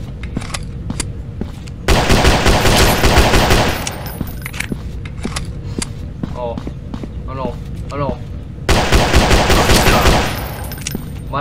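Rapid automatic gunfire from a Jeff the Killer horror video game, loud bursts of shots in two long stretches with quieter single shots, footsteps and game noises between, while someone talks over it.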